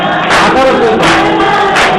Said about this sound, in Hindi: ताली बजा, थोड़ा ताली बजा, ताली बजा